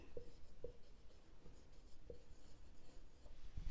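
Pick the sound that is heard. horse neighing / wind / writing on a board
writing on a board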